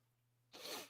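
A single short sneeze bursts out after a moment of quiet, brief and fairly faint.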